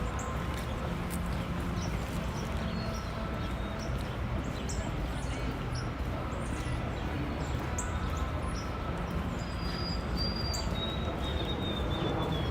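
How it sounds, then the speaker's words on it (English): Birds chirp and tweet in short scattered calls over a steady outdoor background in New York City, moderately close and continuous throughout. "Do you hear birds sing?"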